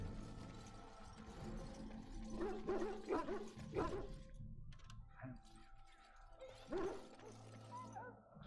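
A dog barks in the PC game Dragon Age: Origins: a quick cluster of several barks, then one more after a pause, over steady in-game ambience.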